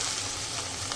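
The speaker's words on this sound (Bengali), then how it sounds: "মাছটা ভালোভাবে ভেজে নিচ্ছি" Hilsa fish frying in foaming mustard oil gives a dense, steady, close sizzle that stays even throughout.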